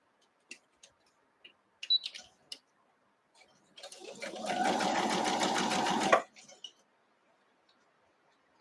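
A sewing machine with a quarter-inch foot stitches a churn dash quilt block. A few soft clicks come first, then a close, steady whirring run of about two and a half seconds, then a few faint clicks.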